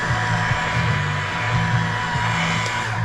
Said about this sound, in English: this is standard waffle cutting compound pad and the Makita rotary buffer